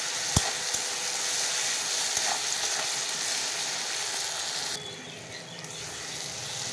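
Tomatoes with salt frying in a pan for a chicken and apple dish, a steady close sizzle with a few sharp utensil clicks, quieting noticeably near the end.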